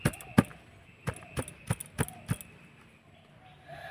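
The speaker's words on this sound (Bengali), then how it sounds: "একটুখানি এভাবে করে ট্যাপ ট্যাপ করে নেব" Cake tin filled with batter tapped against a surface, about eight sharp knocks in an uneven rhythm, close and distinct with quiet pauses between.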